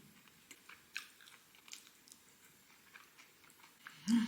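Soft, close mouth sounds of someone chewing jokbal, braised pig trotters, come as quiet irregular crunches and smacks with a faint hum behind them, then a brief louder noise at the end.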